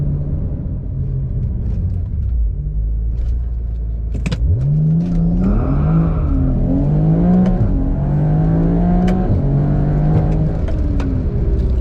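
A BMW E92 335i with the N54 engine accelerating hard, loud rumbling engine note climbing through repeated gear pulls with brief shift dips, sustained and close throughout.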